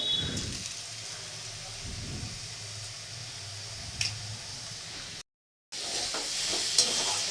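Quiet sizzling of spinach and fried lentil dumplings in a pan, with occasional scraping strokes of stirring and a short silent gap near the end.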